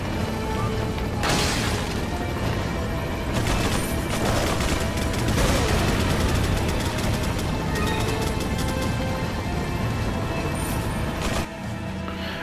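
Enemy gunfire in Resident Evil 4: loud, dense bursts of shots and booms stretch across the whole stretch amid clanking game noise, with a few sharper cracks standing out.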